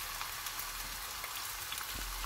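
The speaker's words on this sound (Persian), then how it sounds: "وقتی که داغ شد مرغا رو سرخ کردم" Chicken pieces fry in a small amount of hot oil in a pan, giving a steady close hiss with crackles and pops scattered through it and no voices.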